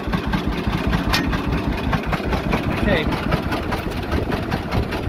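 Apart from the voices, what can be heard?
John Deere AR tractor engine running while plowing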